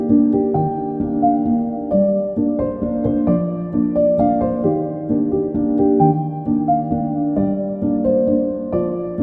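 A MIDI piano in Logic Pro recreates a song: soft, warm chords and a gentle melody move at an even, unhurried pace, played alone with no voices.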